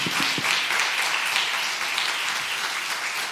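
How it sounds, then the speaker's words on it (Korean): A church congregation at a Sunday afternoon service claps in sustained, even applause that fills the room, with a few distinct claps at the start and no talking over it. "박수 해주세요"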